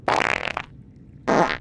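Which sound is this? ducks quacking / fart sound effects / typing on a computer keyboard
fart sound effects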